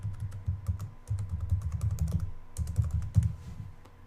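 Fingers type a file name on a computer keyboard in quick bursts of close, clicky keystrokes with brief pauses between runs; nobody speaks.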